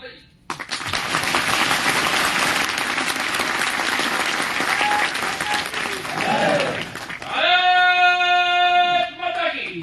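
An audience at a Gwalior job fair address breaks into loud, sustained clapping for several seconds, then a speaking voice takes over as the applause dies away.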